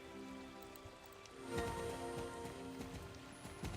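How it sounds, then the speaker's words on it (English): Horse hoofbeats from a video game, a steady clip-clop of a ridden horse at pace, rapid repeated thuds over a constant bed of ambient game noise and music, with no talking. "Ride there on that beautiful horse of yours"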